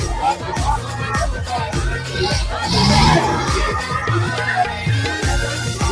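Dense, steady crowd noise at the Mhasa fair in Murbad, Thane district, with overlapping voices, children's shouts and general hubbub close by throughout, swelling slightly at the midpoint.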